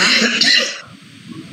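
A single harsh cough bursts out at close range, followed by quieter rough breathing and faint low rumbling.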